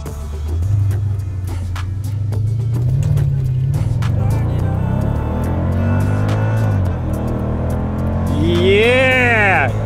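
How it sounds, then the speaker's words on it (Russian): A rear-wheel-drive 500 hp Mercedes-Benz W211 AMG 5.5 accelerates hard during a speed test, its engine note heard from inside the cabin, rising steadily in pitch through the gears, ending in a high, climbing whine. "Я чувствую, что в этот раз тачка начинает быстрее набирать скорость."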